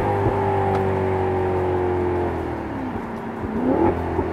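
A 2018 Maserati GranCabrio sports car engine revs steadily, its pitch dipping and then climbing again as it shifts into third gear and accelerates, loud and close with no voices.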